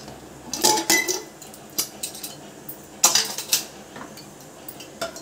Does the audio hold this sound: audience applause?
no